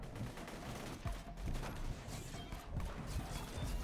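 Dense, continuous gunfire from the Borderlands 2 video game, rapid overlapping shots and impacts forming a loud sustained barrage throughout with no voices.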